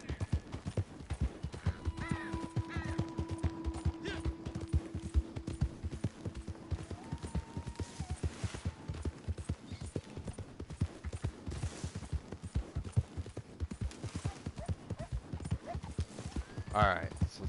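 Horse hooves clip-clop at a steady rhythm throughout in the Red Dead Online video game, close and prominent, with a brief whinny and music tones early on, mixed under intermittent talk.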